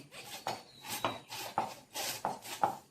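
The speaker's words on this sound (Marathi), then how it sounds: "आपण भाजी चिरून घेणार आहोत. एकदम कोवळी कोवळी भाजी आहे. बघा, बारीक अशी चिरून घ्यायची." Knife chopping tender kurdu leafy greens finely on a board, a steady series of about six crisp, close cuts with brief rubbing scrapes between them.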